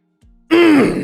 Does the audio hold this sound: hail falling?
no